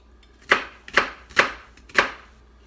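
A knife roughly chops a small white onion on a board: four crisp, evenly spaced thuds, close and clear, with no talking.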